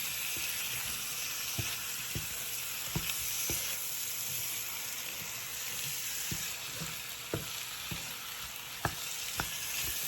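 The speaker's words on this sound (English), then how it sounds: "so we're gonna give it a nice stir." Jamaican shrimp curry sizzling in a pan, a constant close frying hiss broken by sharp clicks and taps of a utensil stirring at irregular intervals, with no talking.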